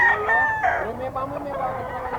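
A young rooster, a stag, crows at close range among other fowl, a harmonic crow followed by clucking, with a voice talking over it.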